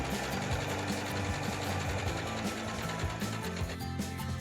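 A sewing machine runs steadily, stitching a quilting strip set together at fast speed, with a dense rapid mechanical whir and clatter that continues without pause and no talk.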